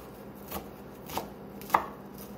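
A knife chops vegetables finely on a board, making three soft, sparse chops about half a second apart against a quiet background.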